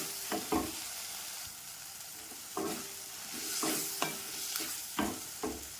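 Turkey berries, tamarind, coconut and coriander stems being stirred and sautéed in a pan for chutney, with soft sizzling and intermittent scraping strokes of a spoon, fairly quiet and close.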